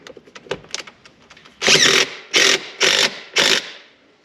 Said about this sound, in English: So we're going to tighten our 10mm bolts up here.